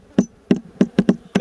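Nails are driven into plywood for a beehive nucleus box using a wedge instead of a hammer: six sharp, close knocking strikes land at an uneven pace with short gaps between them.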